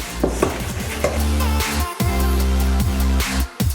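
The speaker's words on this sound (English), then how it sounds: "And now it's time to stir it up." Peanut butter cookie dough sweetened with monk fruit is stirred with a spoon in a bowl, making loud, close, rhythmic thuds and scrapes in quick succession, with no speech.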